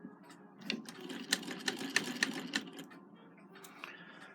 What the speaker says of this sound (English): So you've got to have that in the engaged position to run the machine.